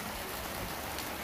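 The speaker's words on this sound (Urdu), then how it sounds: "خادم آباد بازار میں سچویشن بارش میں دوران کہ کتنی تیزی نال بارش کا سلسلہ جاری ہے" Heavy monsoon rain pours down in Khadimabad bazaar as a dense, continuous hiss of drops striking the ground and surfaces, with no voices.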